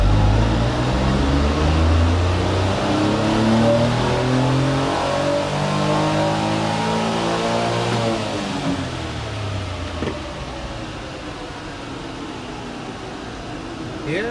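Honda Acty kei truck engine on a dyno, winding up loud and continuous through rising pitch sweeps, then easing off toward a lower drone with a fan-like hum behind it.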